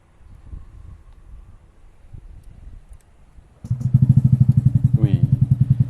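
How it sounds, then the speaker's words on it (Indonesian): A Yamaha Fazzio scooter with an aftermarket exhaust starts up after quiet background noise, then settles into a loud, close, deep, rhythmic idle with a brief rev. "Wih, knalpotnya gahar banget, suaranya. Wih, suaranya bener-bener ngebas, padat"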